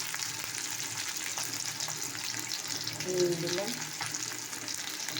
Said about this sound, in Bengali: তেলটা গরম হয়ে গেছে। দেখো, পেঁয়াজ লঙ্কা দিয়ে দিলাম।